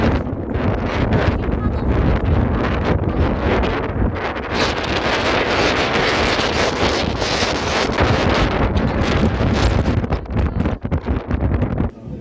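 Strong wind sweeps across Udo island off Jeju, roaring loud and constant as it buffets the microphone from start to finish, with only slight dips in force near the end.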